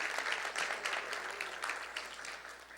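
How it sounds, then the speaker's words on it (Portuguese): A church congregation applauds steadily throughout, many hands clapping in a dense, continuous wash from a sizable crowd, fairly loud and close, with no clear talk over it. "Dá um aplauso a Jesus,"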